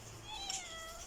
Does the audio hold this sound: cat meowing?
yes